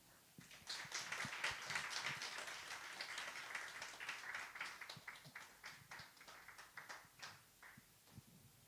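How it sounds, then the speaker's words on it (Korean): Applause from a congregation at a church closing worship service of a festival, a steady patter of many hands that holds for several seconds and then thins into scattered claps, heard at a moderate distance. "나오실 때큰 박수 부탁드리겠습니다."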